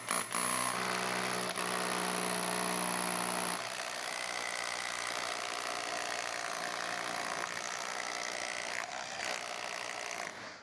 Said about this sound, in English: do all your pre-drilling then